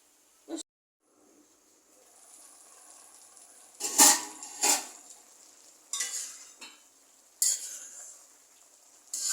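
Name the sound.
sautéing and stirring in a pan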